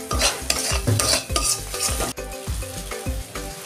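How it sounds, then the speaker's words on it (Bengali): Spices with coriander powder and sugar being stirred and sautéed in a pan for prawn malai curry, a rhythmic scraping of a spatula over a loud continuous sizzle, close and with no talking. "মশলাটাকে কষাবো তো ভালো করে।"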